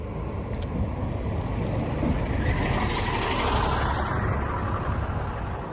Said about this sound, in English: Hold on, let this bus go by.